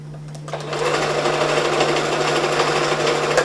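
A sewing machine stitches a fabric pillow seam with a close, steady mechanical whir that starts after a brief quiet moment and runs without a break.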